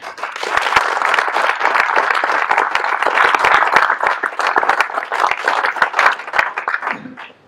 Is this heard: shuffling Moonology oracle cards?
no